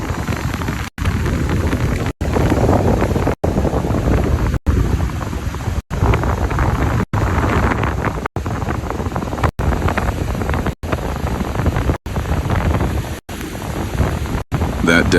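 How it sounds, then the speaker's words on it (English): Atlantic ocean surf on the Florida coast roars as a steady, loud wash of breaking waves, heavily buffeted by wind rumble against the microphone, with regular brief cutouts and no talk. "just the ocean arriving over and over again, taking a little more each time."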